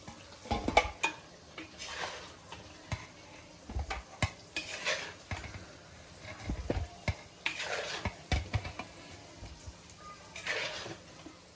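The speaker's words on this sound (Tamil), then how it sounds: "அதில் எண்ணெயிலே நல்லா கொஞ்ச நேரம் வச்சுட்டு எடுத்துடணும்" Quail eggs frying in hot oil in a pan, with repeated scraping and stirring knocks against the metal over a faint sizzle, close and steady without talk.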